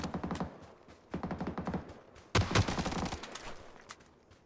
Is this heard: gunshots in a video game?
yes